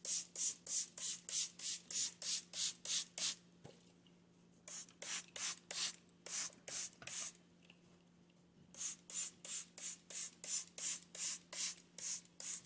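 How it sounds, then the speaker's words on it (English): Rapid bursts of a handheld spray bottle misting water over a seed sprouting tray, sounding as fast rhythmic hissing pumps in two long runs separated by a quiet pause, close and fairly loud. "And then I like to spray it,"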